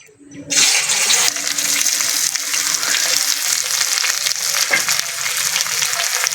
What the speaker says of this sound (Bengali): আমলকি ভালো ভেজে নেব